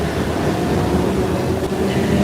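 A streetcar running on rail tracks in the rain, a loud steady rumble and rolling hum from on board, with faint rattles and no speech.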